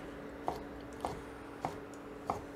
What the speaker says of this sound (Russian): Все, я нарезаю кабачок.